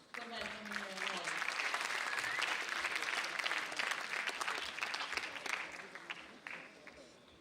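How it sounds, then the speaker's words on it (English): An audience at an international conference applauds panelists as they take the stage, a sustained broad clapping that swells and holds, then tapers near the end, with a voice heard briefly at the start. "A round of applause for welcoming them all."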